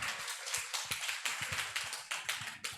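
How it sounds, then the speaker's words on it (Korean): Parents at an elementary school parent-education session clap together in a faint, fairly rhythmic round of applause, with soft individual claps spaced through a short stretch. "자, 박수해 주세요"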